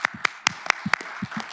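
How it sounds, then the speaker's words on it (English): At an architecture seminar on 3D laser scanning, a small audience gives another round of applause to a group from a school of architecture; sparse, distinct claps at an uneven rhythm, close by. "another round of applause for our"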